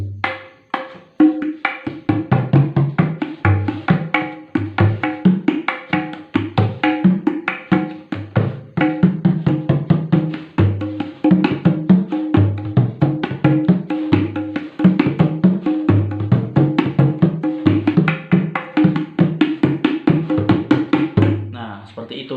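An Electone organ keyboard plays loudly in a music shop, with dense, rhythmic chords and notes throughout.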